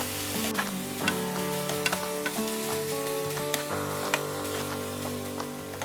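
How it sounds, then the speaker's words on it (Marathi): Chopped onion frying on a medium flame for prawn biryani, a continuous crackling sizzle with scattered pops and spoon scrapes against the pan running throughout. "मीडियम फ्लेमवर हा कांदा छान असा गुलाबी रंगापर्यंत किंवा मऊ होईपर्यंत छान असा परतून घ्यायचा आहे"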